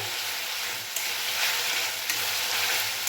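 Spice masala for a chickpea curry fries and is stirred in oil, giving a steady, close sizzle with a constant hiss and occasional soft scrapes of a spoon against the pan.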